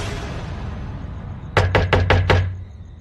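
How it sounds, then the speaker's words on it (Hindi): Five loud, rapid knocks strike the main door of a house, evenly spaced and close by, standing out sharply against a quiet background. "घर का मुख्य दरवाजा जोर जोर से बजा"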